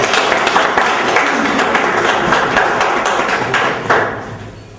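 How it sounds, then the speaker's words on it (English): An audience claps together to open a performance, a full, continuous wash of many hands that holds steady, then thins and fades toward the end. "So let's clap to start"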